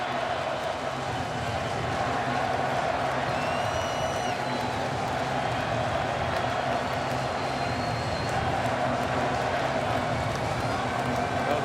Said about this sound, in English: listen to that Cowboys chant as Murray gets another first down